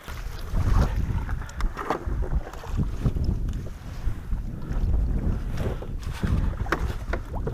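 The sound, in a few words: paddling a Hobie Tandem Island kayak on water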